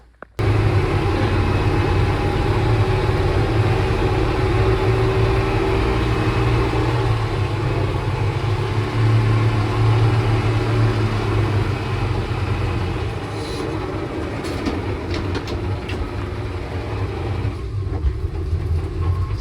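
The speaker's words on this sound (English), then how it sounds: "I definitely think it's something in the transmission making noise" Old military ambulance running after 15+ years unused, a rough low engine rumble with a droning transmission whine, steady and close, easing slightly toward the end with a few faint clanks.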